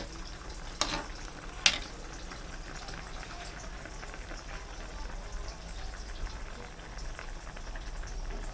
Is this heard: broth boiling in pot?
yes